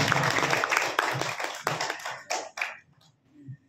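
A burst of crowd clapping and applause, dense and loud at first, then thinning out into a few scattered claps before fading.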